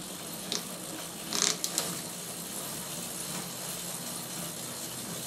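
A bicycle-driven permanent magnet generator spins up with a soft, steady mechanical whir of gears and a ratcheting drivetrain, a few quick clicks and ticks near the start, all fairly faint.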